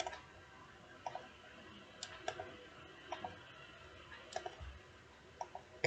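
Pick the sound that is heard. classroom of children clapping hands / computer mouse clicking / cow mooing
computer mouse clicking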